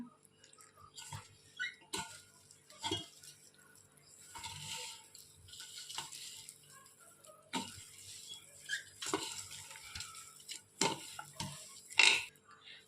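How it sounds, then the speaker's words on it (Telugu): Baby corn is stirred in a batter of cornflour and maida as water is added bit by bit, giving soft, intermittent scraping and clinking knocks of a utensil against a bowl at an uneven pace, close and fairly quiet. "ఈ స్టేజ్లో మనం కొంచెం కొంచెం వాటర్ వేసుకొని మిక్స్ చేసుకుందాం"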